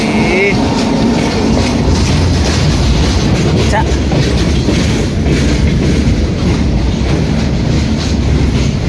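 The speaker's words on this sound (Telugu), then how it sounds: "ఈ ట్రైన్ అడ్డం వచ్చింది" A train rumbles loudly past close by at a railway junction, a steady roar of wheels and carriages with clattering on the rails, filling the whole stretch.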